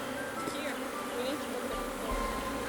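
A mass of bees crowded on the top of an opened hive during an inspection, droning in a steady, close, continuous buzz with individual bees whining past.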